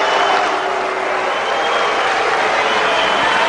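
Sustained crowd applause and cheering at a 2007 professional tennis match after Sharapova beats Schnyder, a steady dense roar of clapping throughout.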